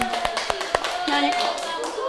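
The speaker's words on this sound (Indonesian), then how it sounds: "kita beri tepuk tangan" Scattered clapping in a classroom microteaching session, a few sharp claps in a loose rhythm alongside background talking.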